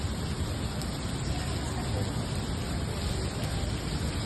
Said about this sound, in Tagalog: Ang problema, napakalakas ng ulan.